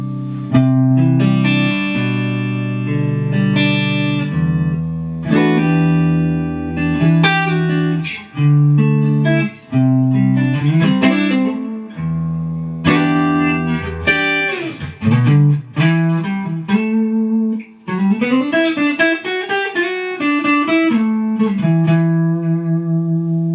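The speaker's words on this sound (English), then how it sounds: "Bit of chorus, neck pickup." Electric guitar on the neck pickup with a shimmering chorus effect and a little reverb, playing a flowing sequence of chords and melodic notes through a Two Rock Classic Reverb Signature amp, steady and fairly loud.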